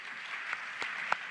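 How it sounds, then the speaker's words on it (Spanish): Short burst of audience applause at a public conversation forum, fairly faint and steady with a few sharper individual claps standing out, no voices over it. "Un aplauso."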